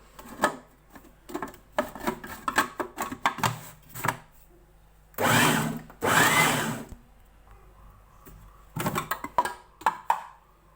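A kitchen mincer grinding fish for fish kofta: a motor whirring in short stuttering bursts, then two longer sustained runs, and more buzzing pulses near the end, close and fairly loud with no talking.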